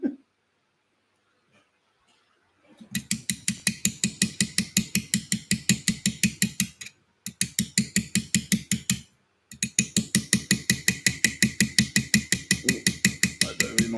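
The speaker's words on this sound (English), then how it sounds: "It's the one thing, fun thing with this hammer, because it's made out of threaded rod. Every time I miss the tool," A hammer made of threaded rod rings out in rapid, even metallic strikes while engraving Viking sword fittings, close and loud, in three bursts separated by short pauses.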